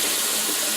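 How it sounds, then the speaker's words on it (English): Water rushes and splashes as a soaked helmet liner's padding is squeezed under running water, a loud, steady hiss up close. "I'm just squeezing it, letting the water get in, and squeezing it,"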